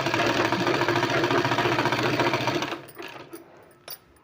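Sewing machine back-stitching a seam on a small child's kurta, a loud steady rattling hum that cuts off abruptly, followed by a few light handling clicks.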